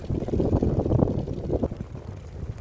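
Strong, gusty wind buffeting the microphone outdoors in a Dutch village during a storm, a loud continuous low roar that swells and eases with no speech.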